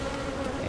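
Honey bees buzzing at a backyard beehive, a dense steady drone held close and loud for the whole short moment.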